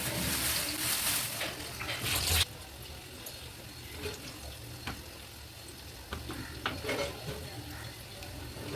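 Onions frying in a pan for chicken biryani, a steady sizzle with occasional stirring scrapes, loud for the first couple of seconds, then quieter and continuous with a few light clinks.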